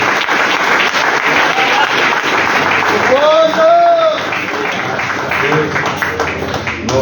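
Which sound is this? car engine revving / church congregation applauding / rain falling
church congregation applauding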